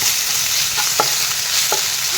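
Onions sizzling in a pan with ginger, garlic and chilli paste while a spoon stirs, a steady close frying hiss broken by a few scraping strokes.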